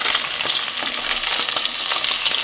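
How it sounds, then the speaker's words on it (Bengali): Large pieces of fish frying in oil in a home kitchen, a steady loud crackling sizzle that fills the whole clip with no pauses and no talking. "একটা করে মাছগুলো ভাজতে হবে।"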